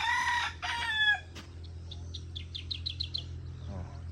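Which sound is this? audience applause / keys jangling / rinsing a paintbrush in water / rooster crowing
rooster crowing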